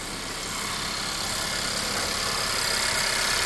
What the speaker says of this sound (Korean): 다시 엔진음을 보면